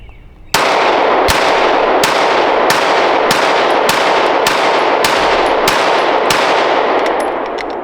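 Ten sharp shots from a Glock 17 Gen 3 pistol firing Winchester white box rounds, evenly spaced about a second apart, loud and close with ringing reverberation after each.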